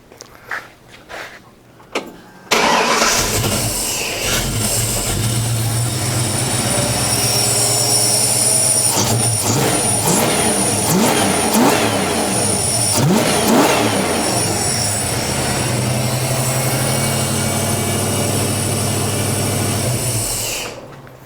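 After a few quiet knocks, a 1964 Ford Falcon engine cranks and catches, then idles loudly and revs up several times before settling and cutting off near the end.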